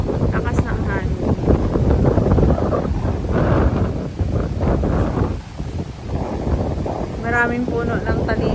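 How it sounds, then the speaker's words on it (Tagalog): Strong seaside wind buffets the microphone in loud, ragged gusts along a coast with rough waves, while a person talks intermittently under the roar. "Lakas ng hangin."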